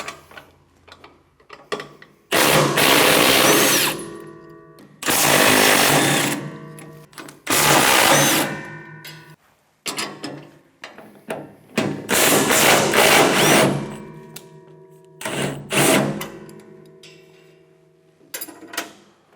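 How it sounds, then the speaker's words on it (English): Nuts and bolts being removed from the auger housing of a MUSKOX 23 37 snowblower, likely with a power tool, heard as several loud, bursty mechanical whirring runs separated by short pauses. "Here I'm going to remove all 4 of these bolts, but I'm just going to do 3 at first so the auger doesn't fall down."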